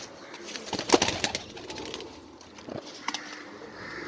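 French pigeons in a loft coo in soft, low bursts, with a louder flurry near the start that may be wing flaps, against a faint background hum.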